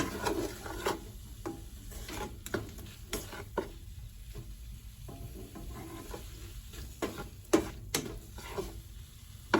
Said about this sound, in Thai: นะโอเคแล้วก็ผัด